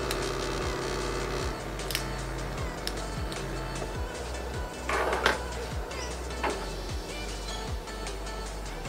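A vinyl cutting machine runs its blade at a slowed speed setting, giving a steady low motor hum with repeated short sliding strokes and faint clicks throughout, close and moderately quiet.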